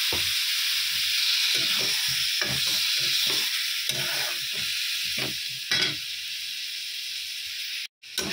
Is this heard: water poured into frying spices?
yes